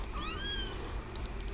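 A single drawn-out cat meow, close and clear, rising and falling over about half a second, followed by faint high squeaks against a steady low background hum. The cat is nervous after being moved to a new spot.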